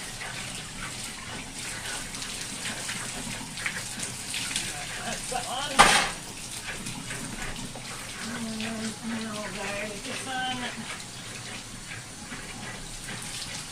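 Hot tap water runs steadily into a basin over fabric being rinsed of starch for tie-dyeing, with a sudden splash partway through and a person talking quietly over it.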